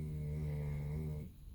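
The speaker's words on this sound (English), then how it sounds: "That would be a dog snoring." A dog snores while asleep in the evening with guinea pigs nearby. One long, loud, close buzzing snore carries a strong droning tone and cuts off near the end of the clip.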